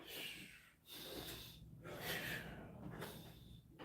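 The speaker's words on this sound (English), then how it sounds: "Always take a deep breath when I come up." Deep breaths drawn during an exercise routine, with a steady, close rush of air rising and falling over several seconds and no talk.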